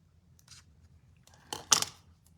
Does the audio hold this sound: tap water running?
no